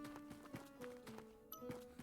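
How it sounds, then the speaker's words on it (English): Horse hooves clop in a video game, a steady run of soft, evenly spaced thuds over sustained tonal music, moderately quiet throughout. "Oh, we have another horse out here that's kind of hanging outside."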